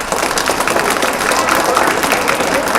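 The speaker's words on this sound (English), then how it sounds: "I want you all to give yourselves a round of applause" A school audience applauds at an education event, steady dense clapping filling the space at a fairly loud level, with some voices mixed into the crowd noise.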